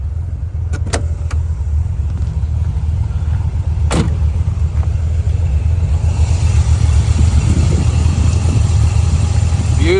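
1968 Chevrolet Corvette convertible with headers, its engine idling steadily and smoothly on a workshop rack, a low constant rumble heard close with a few faint clicks.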